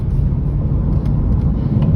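Steady low rumble of a Lexus IS F sedan driving, heard from inside the cabin, a continuous muffled engine and road drone at moderate level with no talk.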